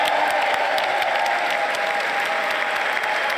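Members of Congress applaud the President's introduction at the 2022 State of the Union address, a steady, dense wall of clapping from a large chamber crowd, loud and sustained throughout.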